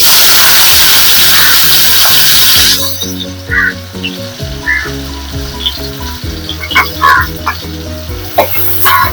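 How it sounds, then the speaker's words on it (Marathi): Chopped onion hits hot oil in a pot with a loud, bright sizzle that settles into steady frying crackle, with occasional clinks of a spoon stirring; no one speaks. "आता तेल आपलं गरम झालं की हा कांदा मी घालून घेते त्याच्यात"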